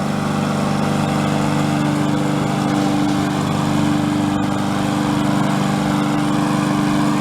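A free push lawn mower's small engine runs steadily and loudly up close, a constant buzzing drone with a strong low hum that never changes pace.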